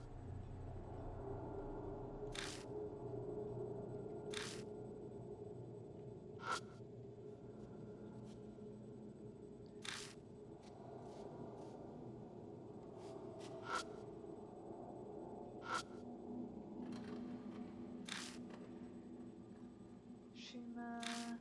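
A ghost typing on a keyboard in an office, from a video game, heard as faint, scattered clicks and taps over a steady low hum, with gaps of a few seconds between them.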